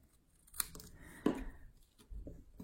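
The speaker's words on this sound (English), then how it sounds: "So I'm gonna grab my scissors here, and what we're gonna do is we're just gonna trim this closer to" Scissors snipping paper while trimming a card sentiment close to its edge, two crisp nearby cuts with quiet handling in between and no talking.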